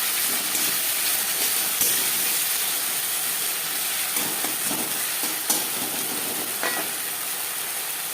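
Onion sizzles steadily in hot oil with ginger and green chilli paste added, giving a loud continuous frying hiss with occasional stirring scrapes and no talking.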